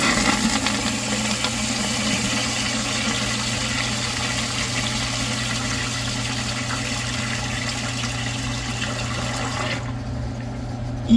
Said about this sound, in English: And now for the truly infamous part, the bowl rinse.